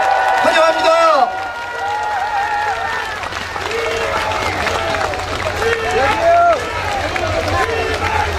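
Applause from a crowd at an outdoor political rally in Seoul Plaza greets a Democratic Party leader, steady clapping running throughout beneath an announcer's voice and loud reverberant speech.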